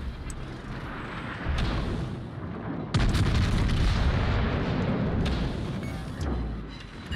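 Gneisenau main guns firing in World of Warships: deep, loud artillery booms with a sharp blast near three seconds, followed by sustained rumbling and further heavy reports rolling through the battle noise.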